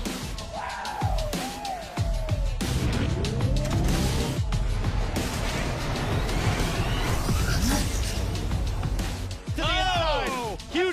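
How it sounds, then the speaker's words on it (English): IndyCar race cars crash on the track during a 2019 race, with loud engines, squealing tires and skidding, and an announcer talking over the whole scene. "Huge crash."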